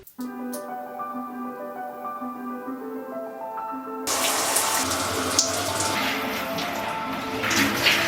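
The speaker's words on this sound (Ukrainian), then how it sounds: "Так, ідемо мити голову." Tap water runs steadily into a sink or tub during hair washing at home, a loud broadband rush that starts abruptly midway over a backdrop of soft tonal music.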